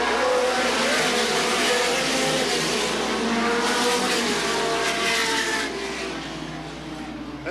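A field of super late model race cars thunders around Sandusky Speedway in a dense, continuous, loud engine roar from many cars at once, swelling and fading slightly as the pack passes, with tire noise mixed in.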